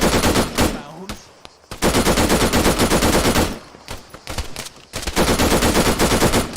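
Sustained machine gun suppressive fire in the Arma military shooter, loud, dense bursts of rapid shots broken by two brief pauses, close and dominating with little else heard.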